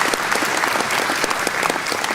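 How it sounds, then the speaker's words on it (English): Audience applause at a political rally, a dense steady burst of clapping from a crowd with no talk over it. "Round of applause, please."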